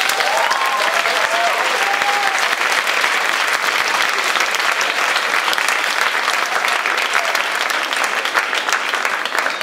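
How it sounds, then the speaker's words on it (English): Audience applause after a team is praised by judges at a competition event, a steady dense wash of clapping sustained at full loudness for nearly ten seconds with no voices on top. "If you wouldn't mind giving them a round of applause."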